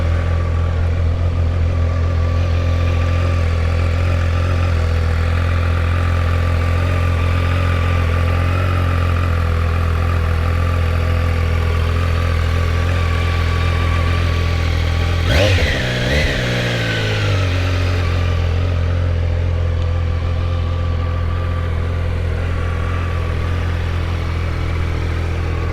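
A 2025 Triumph Daytona 660 motorcycle idles loudly and steadily nearby, then its engine revs up sharply once before settling back into a constant idle.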